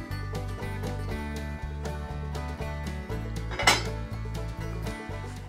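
Thawed, still crisp broccoli tipped into a greased 11 by 7 baking dish, soft clinks and rattles of dish and utensil with one sharper clatter, close by over steady background music, no talking.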